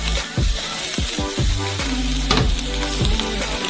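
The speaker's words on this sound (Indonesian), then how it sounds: "Kita perlu cairkan lemak darinya dengan rasa asap." Bacon sizzles in a hot pan as its fat renders, a steady crackling hiss with a few louder bursts of spitting, heard up close over faint background music.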